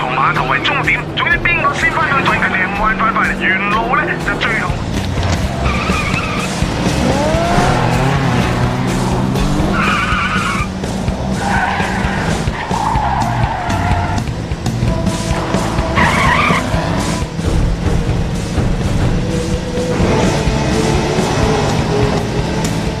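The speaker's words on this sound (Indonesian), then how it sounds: "Tang Fung yang menggunakan mobil Subaru Impreza itu menempel dan seakan-akan meremehkan Sky." A film street race featuring a Subaru Impreza: roaring engines, revving and squealing tires mixed with dramatic music, with people speaking over the action.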